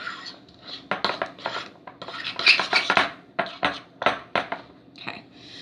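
A thick Shakeology peanut butter fudge mixture stirred with a spoon in a bowl: dense, rapid scraping and clinking strokes, close and fairly loud, continuing steadily throughout.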